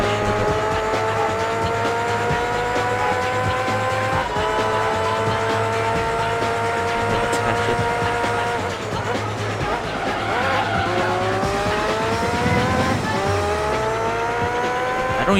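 Race cars in Gran Turismo 3 during an All Stars race, engines revving loudly through repeated gear changes with rising whines and tire squeal, while a player talks over them.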